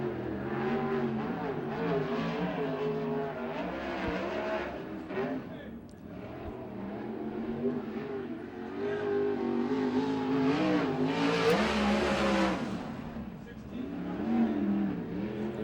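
USAC/CRA sprint car at Tulare accelerating hard off turn 2 on a lap, the engine roaring and rising in pitch, loud and continuous, with an announcer talking over it.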